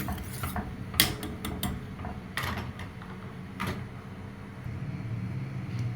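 A spoon stirs soaked, washed rice in a metal cooking pot, giving a few sharp scraping clinks and knocks against the sides, irregular and close, with quiet gaps between strokes.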